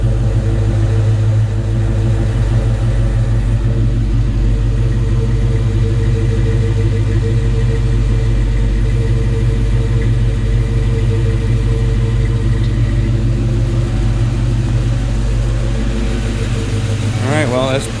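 A 1993 Ford Mustang Cobra V8 with a newly installed TKO600 transmission idles steadily up close, a loud continuous low rumble that holds even throughout, with a brief rev-like swell right at the end.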